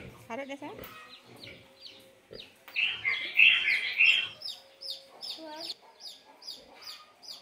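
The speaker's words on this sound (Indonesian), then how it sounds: "Imut sekali ya anak ayamnya" Farm chicks cheep in a dense, high-pitched cluster of peeps that swells through the middle and then continues in lighter repeated chirps, with a voice heard briefly near the start.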